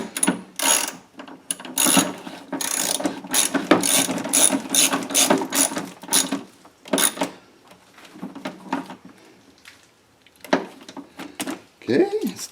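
A ratchet is cranked in quick bursts of sharp rapid clicking while tightening a car battery terminal bolt during a vehicle battery replacement, with short pauses between strokes and a voice speaking briefly at the end.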